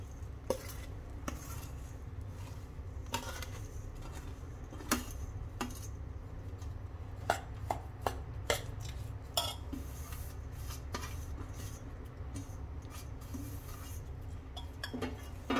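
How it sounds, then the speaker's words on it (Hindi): Jaggery syrup is stirred with flour and dry fruits in a pan for Sindhi gond ladoos, with a spoon scraping and clinking steadily against the metal over a low continuous hum. "इसे अच्छे से चला लेंगे ताकि जो गुड़ है अच्छे से इसमें मिक्स हो जाए"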